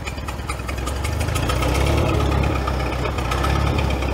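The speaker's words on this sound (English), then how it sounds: "Oh, it's actually idling. That's nice." An old CAT Towmotor forklift engine idles steadily, a rough low rumbling chug with a mechanical whine running through it, close and constant.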